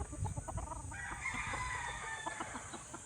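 Chickens cluck steadily while a rooster crows in the background, a busy farmyard chorus at moderate volume.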